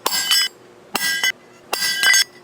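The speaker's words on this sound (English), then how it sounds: "I'm gonna go slam on it with a hammer." Three bursts of sharp metallic clanking strikes, each a quick cluster of ringing hits, loud and close with short pauses between.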